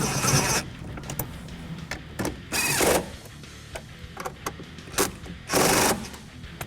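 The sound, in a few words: tightening the Jeep grab handle bolts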